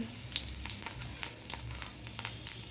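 Mustard seeds, cumin and a pinch of asafoetida temper in hot oil for a capsicum dry-gravy sabji: a close, steady sizzle dotted with sharp, irregular pops and crackles as the seeds burst. No voices.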